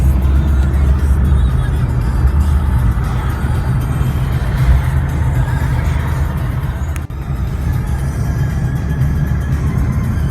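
A loaded car carries six cubic metres of sawdust along a road, its engine and road rumble droning steadily and fairly loud throughout, with a brief dip near the end.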